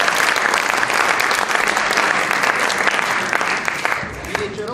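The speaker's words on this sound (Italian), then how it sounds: "Il mio applauso." Audience applause at a contemporary art event at the Accademia di Belle Arti L'Aquila, a dense, steady clapping from a sizeable crowd that carries on throughout and eases slightly near the end.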